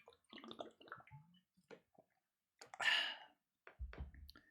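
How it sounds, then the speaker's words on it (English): Water being drunk from a glass or bottle in quiet: small wet clicks and swallows, a brief gulping burst in the middle, then a soft low thump near the end. "I'll tell you my line as I drink some delicious water"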